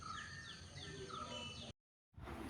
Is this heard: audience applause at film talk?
no